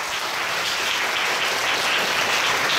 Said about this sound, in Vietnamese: thì cho một tràng pháo tay to hơn nữa ạ.